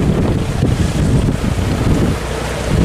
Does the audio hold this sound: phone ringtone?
no